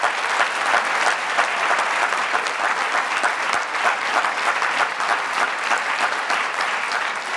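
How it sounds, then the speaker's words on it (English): Sustained audience applause at a DC Mayor's Office public event, a dense, steady wash of many hands clapping for about seven seconds with no voices over it. "Another round of applause for all of them."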